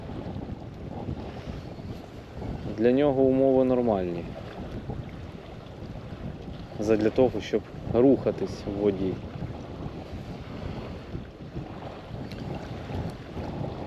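Strong wind buffets a fishing boat on the Dnipro river, a steady rushing roar with low rumble and splashing water beneath, while someone speaks in Ukrainian over it.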